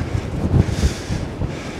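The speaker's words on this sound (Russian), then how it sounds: "Так вот метет ветер, песок" Strong storm wind blowing sand across beach dunes in Anapa buffets the microphone in a steady rushing roar, with gusty swells and no voices.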